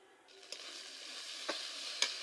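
A paste of ground onion, garlic, chili, cumin and ginger fries in a pan with a soft steady sizzle, broken by three sharp ticks and scrapes of a spoon stirring, close and fairly quiet.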